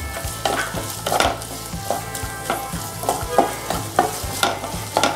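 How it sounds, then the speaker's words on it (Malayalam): Sliced onion sautés in a hot pan for egg fried rice, a constant sizzle broken by regular scraping stirs of a spatula roughly every half second, close and fairly loud with no talking. "സവാള ചേർത്തൊന്ന് വഴറ്റി കൊടുക്കാം"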